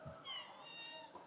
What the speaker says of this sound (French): Regardez le petit chat.